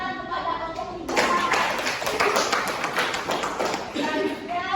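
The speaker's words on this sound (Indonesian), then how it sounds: "Beri tepuk tangan kepada kelompok tiga." A classroom of students claps for group three, a dense burst of applause that starts abruptly and carries on for several seconds, with a voice speaking over the start and end.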